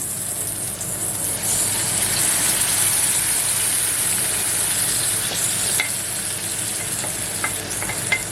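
Onions sautéing in a pan, a loud, continuous close-up sizzle and crackle of hot fat with occasional light pops and stirring scrapes, holding steady throughout with no voices.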